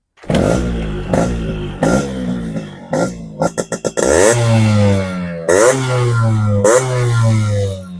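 A Yamaha RX100 Japan model motorcycle is revved repeatedly, with sharp throttle blips rising and falling, a quick burst of short stabs in the middle, then longer held revs, close and loud.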